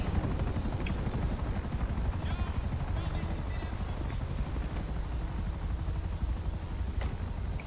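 Steady police helicopter rotor thrum in a role-play video game throughout, a continuous chopping drone at moderate level with faint background noises and no clear talking.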